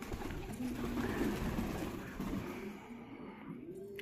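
Domestic pigeons coo in a home loft among roughly twenty birds, some chicks sick, their low soft cooing repeating close by over steady background noise, with no speech.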